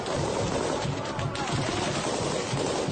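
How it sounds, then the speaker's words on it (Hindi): Dense, continuous bursts of gunfire from Chechen special forces firing on a building, over a constant loud roar, with rapid overlapping shots throughout and no clear pauses. "चेचन स्पेशल फोर्स के ये लड़ाके एक इमारत पर ताबड़तोड़ गोलियां बरसाते दिखाई दिए"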